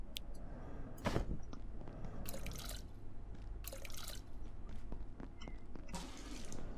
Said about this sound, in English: we'll dump the bit of water back into there, so that's topped up